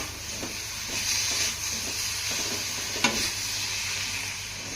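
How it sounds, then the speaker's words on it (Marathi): Chopped coriander is stirred into roasted drumstick-pod bharit in a pan, giving soft, repeated scraping strokes over a low, steady sizzle, close by, with no talking. "आता यामध्ये आपल्याला बारीक चिरलेली कोथंबीर घालायची आहे छान मिक्स करून घेऊया"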